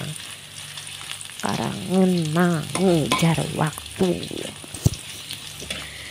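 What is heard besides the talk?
sautéing shallots, garlic, onion and chili over low heat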